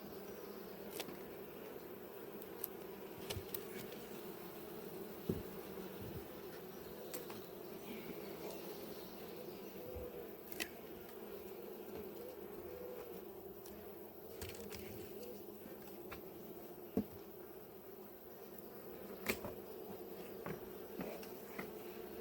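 Honeybees at an opened, sparsely populated large hive early in the morning give a steady, faint drone. Occasional soft clicks and taps of hive handling break through the buzzing.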